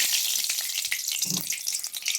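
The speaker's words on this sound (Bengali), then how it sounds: "তো আমি তেলের মধ্যে দিয়ে দিলাম কালো জিরে ফোড়ন।" Nigella seeds splutter in hot oil in a wok, a bright, dense sizzle with crackling pops, close and continuous with no talk.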